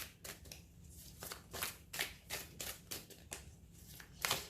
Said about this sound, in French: je vais juste regarder un tirage de cartes